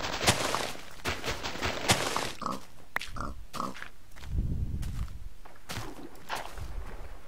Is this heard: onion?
no